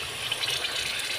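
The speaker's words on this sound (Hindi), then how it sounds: "और ये 1 गिलास में इसमें पानी डाल दूँगा।" A glass of water is poured into beef keema cooking in a pan, a short loud gushing splash heard alone at close range.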